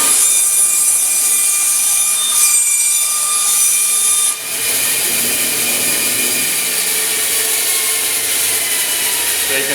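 A band saw with its blade guard lowered low runs steadily while freehand curves are cut, a continuous loud whine with high tonal ringing and a brief dip midway as the blade engages the workpiece, no talking.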